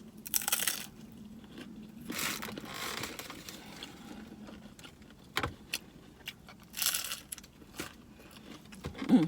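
Bites into a crunchy Taco Bell taco supreme with sour cream, giving a few separate close crisp crunches and rustles spread across the stretch, with no talking.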